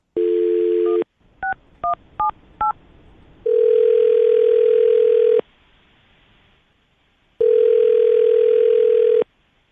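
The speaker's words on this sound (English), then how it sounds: "gonna call her right now, get her on the phone" A steady telephone dial tone, then a quick run of keypad beeps, followed by two long, loud ringback tones separated by silence.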